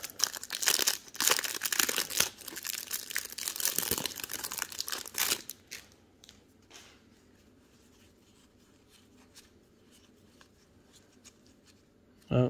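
Packs from 2022 Topps Update hanger boxes are torn open, close crinkling and ripping of foil wrappers in a dense burst for about five seconds, then only faint handling noises after a short quiet stretch, with no talking.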